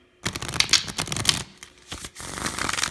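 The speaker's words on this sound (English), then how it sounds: "I was only going to shuffle once anyway." A tarot deck shuffled by hand, a quick close riffle of crisp card slaps and flutters in two bursts with a short pause between, no talking.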